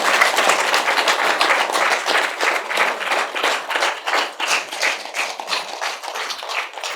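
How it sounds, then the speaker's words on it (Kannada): An audience claps loudly and steadily at a pyramid meditation center's tenth-anniversary program, a dense sustained round of applause with no voices over it. "ಸೊ ಈ ಒಂದು ಪಿರಮಿಡ್ಗೆ ಜೋರಾದ ಚಪ್ಪಾಳೆಯನ್ನು ಕೊಡೋಣ"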